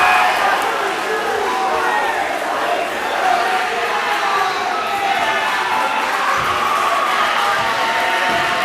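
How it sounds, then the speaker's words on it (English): A loud crowd roars steadily through a high school boys basketball game in a gym, dense cheering and shouting filling the hall, with a commentator's voice mixed in. "That is a loud crowd, Kaz."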